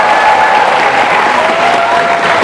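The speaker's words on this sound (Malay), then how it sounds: "Beri tepukan pada adik kita yang insya." A crowd at a religious talk gives a child a loud, steady round of applause, dense and close, continuing unbroken for the whole stretch.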